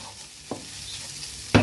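Samosa filling frying over high heat, a steady broadband sizzle with two distinct stirring scrapes, the second louder and close, no talking.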